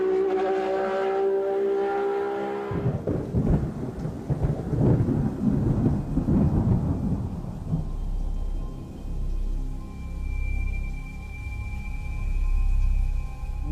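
A thunderstorm with heavy rain rumbles along with a deep, rolling thunder roar and a steady wash of rain that fades into a low, distant rumble.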